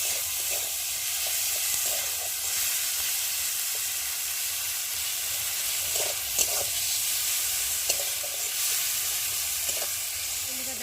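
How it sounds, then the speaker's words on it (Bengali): Chopped tomato fries with spices in a pan while aloo chokha, a mashed potato dish, is being made. A steady, close sizzle with soft crackle runs throughout, with no talking. "টমেটোটা একটু ভালো করে ভেজে নেবো"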